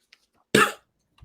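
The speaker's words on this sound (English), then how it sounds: "Sorry, I had a coughing fit." A single loud, close cough bursts out alone, a sharp throat-clearing hack lasting about a quarter second, followed by quiet.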